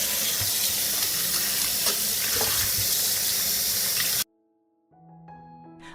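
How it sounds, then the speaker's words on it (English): Tap water runs steadily and loudly over apricots being washed in a sink, a dense close rush that cuts off abruptly, followed by a quiet moment and some faint tonal clinks. "I will wash the apricots first."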